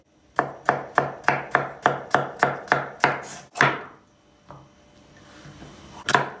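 A knife chops onion sharply on a cutting board about a dozen times in a quick, steady rhythm, then pauses before one last chop.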